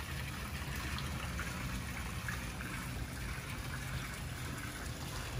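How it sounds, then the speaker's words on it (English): Pool pumps run at a Florida house with a west-facing stucco pool finish, giving a steady, moderately loud rush of flowing water that holds constant throughout with no talk. "Pumps are running."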